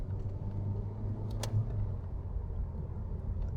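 A car engine held at a steady low rumble in manual first gear of sport mode, with a brief higher burst partway through as a paddle upshift is made, the drone continuing at an even level.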